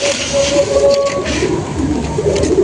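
Madras pigeons coo in a steady, close run of low murmuring calls, with a faint higher whistle-like tone threading through and low background rumble, no voices.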